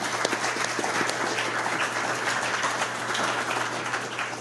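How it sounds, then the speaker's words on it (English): Listeners at a panel talk about the Ohio River give a round of applause for the panelists, a steady, moderately loud patter of hand claps with a low constant hum underneath. "I think they deserve a round of applause, Glen, Lisa, and Lauren"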